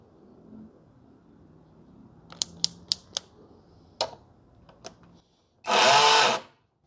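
A Hanabi 16V cordless drill set to screwdriving mode spins up in a single short, loud whir lasting under a second, after a few sharp handling clicks and taps.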